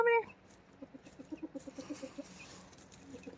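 Roosters cluck in a quick series of soft, close clucks, about a dozen evenly spaced notes following a brief higher call at the start.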